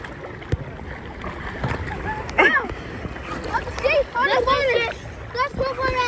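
Child splashing and paddling in water at a beach, with irregular close sloshes and splatters under the voices of adults and children talking.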